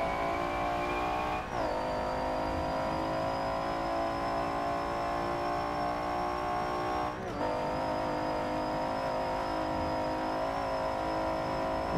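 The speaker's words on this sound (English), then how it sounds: "Now I'm going to charge down the back straight here, full throttle." A Jaguar XJS V12 engine held at full throttle down a back straight, a loud continuous howling drone climbing steadily through the gears with two quick upshift dips; no talk.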